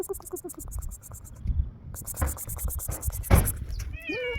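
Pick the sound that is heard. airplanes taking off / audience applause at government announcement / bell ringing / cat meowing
cat meowing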